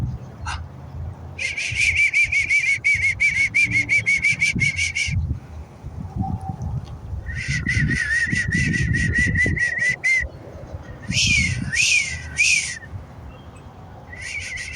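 A person attempts to whistle in three sustained bursts of wavering, breathy tone separated by pauses, over low background rumble.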